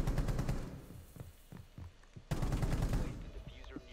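Gunfire in Rainbow Six Siege on console, rapid bursts of shots close by, fading into scattered single shots, then another loud burst under faint background noise.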